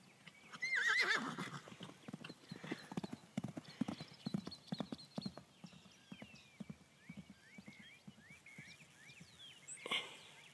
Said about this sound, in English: a boy and his horse